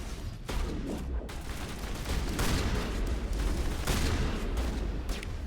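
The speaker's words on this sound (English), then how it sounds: "Let's try the shotgun out." In the video game Mass Effect 1, a shotgun fires amid dense, continuous combat noise, with loud booming blasts and bursts of gunfire layered over a constant roar.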